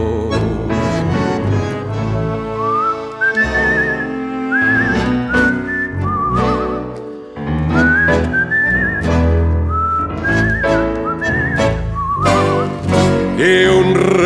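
A person whistles a tango melody over instrumental music, the whistled line rising and falling in phrases throughout.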